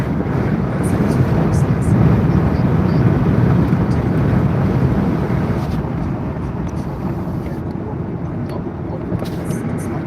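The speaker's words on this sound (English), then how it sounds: "Windy." Strong wind buffets the microphone in a continuous low roar, loud and unbroken throughout.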